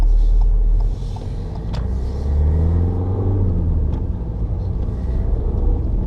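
A car pulls away in first gear during a driving lesson at a junction, giving a steady low engine rumble that swells slightly as it moves off, close and continuous throughout.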